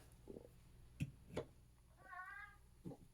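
A cat gives one short, clear meow midway through, faint and a little distant, among a few soft thumps and handling noises with no talking.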